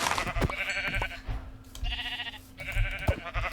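Sheep in the Minecraft video game bleat repeatedly, three or four short wavering calls close by, interleaved with footsteps and clicky in-game sounds.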